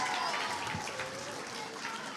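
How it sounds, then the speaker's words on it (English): An audience at a school's 100-year celebration ceremony applauds a former principal, a dense, steady wash of clapping that holds for a couple of seconds and tapers slightly. "Let's give Mary a big round of applause"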